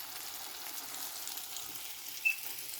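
Chicken legs frying in a pan give a soft, steady sizzle that stays fairly quiet throughout, with one brief sharp pop near the end.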